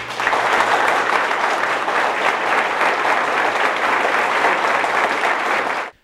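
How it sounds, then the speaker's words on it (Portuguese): Mourners at a cemetery burial for a city councillor break into loud, sustained applause. The clapping stays dense and even for several seconds, then stops abruptly. "E que ela ouça, então, o nosso amor traduzido em aplauso."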